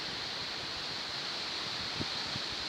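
Fierce hurricane-force wind roars steadily in Taganrog on a cold late-May day, a continuous broadband rush with a few low thuds near the end.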